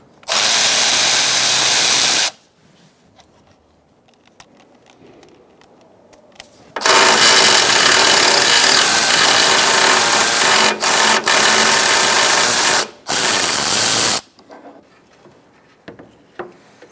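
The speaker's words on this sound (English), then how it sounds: "Using a 13mm socket, we're going to take off our lines." A power driver with a 13mm socket removes the AC line nuts on a 2007-2017 Ford Expedition, running in loud sustained whirring bursts broken by short pauses and quieter working sounds in between.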